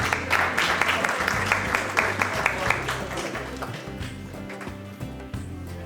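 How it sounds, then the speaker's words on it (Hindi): Audience applause at a Eid special mushaira poetry gathering, a steady mass of claps that thins out toward the end, with a voice and some music-like tones running underneath. "ये आपकी भरपूर तालियों में हमारे साहिब सदारत खड़े होकर इस्तकबाल कीजिएगा शोएब बिन अजीज़ साहब का।"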